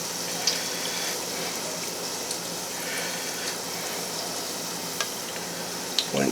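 Canned-biscuit cinnamon donuts fry in hot oil, giving a steady, even hiss of sizzling with a few faint clicks and light stirring taps scattered throughout, heard alone at moderate volume.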